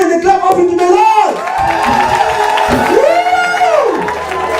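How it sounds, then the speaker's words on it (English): A church congregation at a Mother's Day service claps and cheers, loud and close, with whoops and a singing voice rising and falling over the steady crowd noise. "Can we give once again the clap offering to the Lord?"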